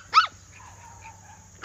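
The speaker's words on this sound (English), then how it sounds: "this is the turquoise collar pup down here underneath me that's screaming at me" A young puppy wearing a turquoise collar, one of a boisterous litter, gives a sharp, loud yelping cry, then falls quiet under a low background hum before a second cry cuts in at the very end.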